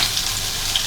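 Meatballs browning in a frying pan give a steady, close, even sizzle with no talk over it.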